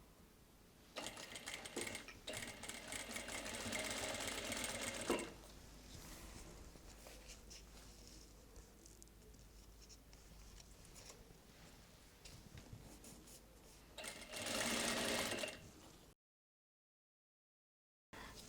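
A sewing machine stitches a half-inch fabric hem folded over canvas for salwar pants, running in two quick bursts of steady mechanical whirring separated by quieter handling, close and fairly loud.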